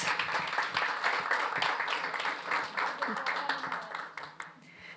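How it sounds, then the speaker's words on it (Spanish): An audience at a citizens' dialogue workshop gives a round of applause, moderately dense clapping that thins and fades toward the end, with a few voices underneath. "Un aplauso"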